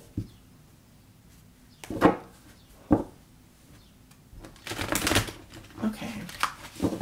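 Tarot cards shuffled by hand in a handful of sharp riffling bursts, close and fairly crisp, with quieter gaps between them.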